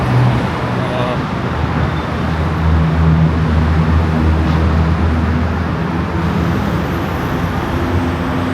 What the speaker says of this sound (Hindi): अभी मैं यहाँ पास आया हूँ ब्रिज के ऊपर। Let's see the traffic.